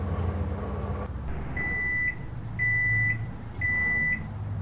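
A microwave oven hums steadily in the horror game The Microwave Paradox, giving three long, clear beeps at even intervals over its low running drone.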